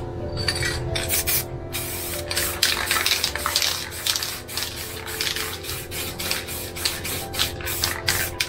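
A can of transparent gloss spray hisses over a painting in a rapid series of short, close bursts that repeat steadily throughout.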